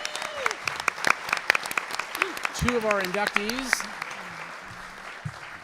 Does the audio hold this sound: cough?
no